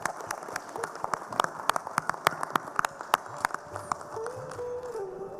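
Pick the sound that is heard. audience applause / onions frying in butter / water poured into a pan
audience applause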